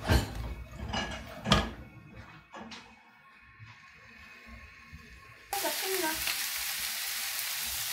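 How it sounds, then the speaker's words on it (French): Onions sautéing in oil in a frying pan, with scraping stirs and clatter at first, then a loud, steady sizzle that jumps up sharply partway through and holds. "On va faire revenir nos oignons."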